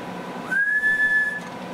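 A single steady whistle into the microphone of a Ranger RCI 99N2 SSB CB radio, sliding up then holding one clear pure tone for about a second over a hissy background.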